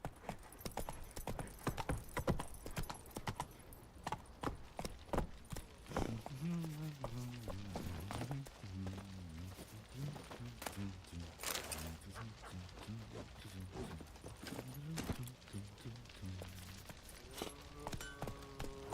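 Rhythmic clip-clop of a horse galloping through The Witcher 3 game world, steady hoofbeats throughout with game music and voices layered over them.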